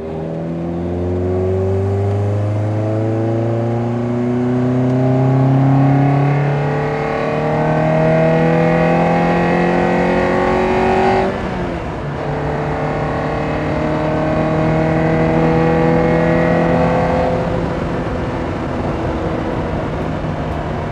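A Lotus Elise S1 engine pulls hard through a 0-100 km/h run, its loud note climbing steadily in pitch, dipping briefly at a gear change midway, then rising again, with no talking.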